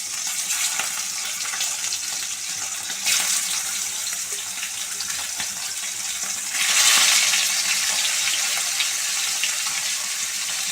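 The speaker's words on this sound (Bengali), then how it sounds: "পমফ্রেট মাছগুলো তেলে ভেজে নিতে হবে তেলটা গরম হবে গ্যাসটা সিম করে মাছগুলো দিয়ে দেবো" Pomfret fish fry in hot oil over a low gas flame. A dense, hissing sizzle runs close and loud and surges louder twice, with no talking.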